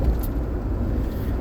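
Steady low rumble of a car driving slowly on a road in Pennsylvania, continuous and even, with no voices.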